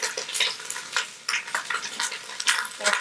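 Chicken wings browning in an Instant Pot being flipped: close, busy sizzling and frying with repeated scraping and clinking of a utensil against the pot, bursts of crackle throughout, no voices.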